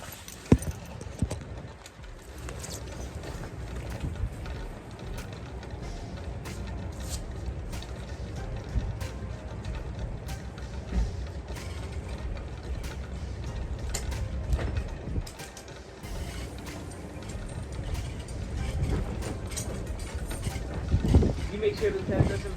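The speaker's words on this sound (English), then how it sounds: "take down this pop-up tent" A pop-up party tent is taken down outdoors, with continuous clattering, sliding and rattling of its frame and legs, some sharper knocks, and a person talking quietly underneath.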